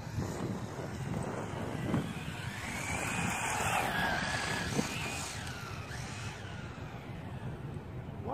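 A WLToys A959 RC car runs at full throttle with a high, whining electric motor buzz that rises and falls as it races past, mixed with wind noise and a steady outdoor hiss.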